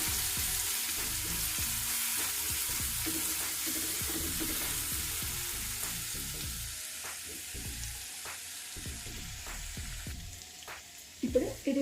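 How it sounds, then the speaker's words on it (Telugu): Ingredients for rasam vada frying in a pan, a steady close sizzle with scattered clicks and stirring scrapes, ending in a few louder clatters. "దీన్ని 1 నిమిషం పాటు వేయించుకోవాలి"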